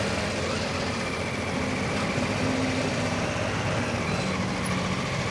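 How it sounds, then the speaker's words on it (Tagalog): Dense road traffic on EDSA in Metro Manila, with trucks, buses and cars idling and rumbling nearby in a steady, continuous wash of engine noise. "So EDSA traffic, good example."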